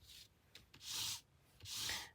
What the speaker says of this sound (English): So I'm going to take this archival ink pad and rub it over the letters